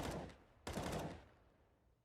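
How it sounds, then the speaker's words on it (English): Sporadic gunfire during a Counter-Strike match on Mirage, Astralis against Mousesports: two loud bursts of rapid shots, the second decaying into a fading tail. "Bit of sporadic gunfire here as the double op setup for Mousesports puts itself in position."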